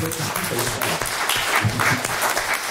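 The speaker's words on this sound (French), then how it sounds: "On applaudit." Lively applause from an audience, the clapping mixed with a few voices and shouts rising and falling over a short stretch.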